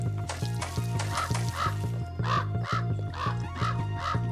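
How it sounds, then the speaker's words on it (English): Repeated harsh crow caws from the game Pumpkin Panic, several in steady rhythm over a looping musical backing, loud and upfront with no talk. "the crow is still annoying"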